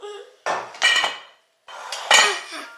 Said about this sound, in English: we're gonna combine all of that up with a whisk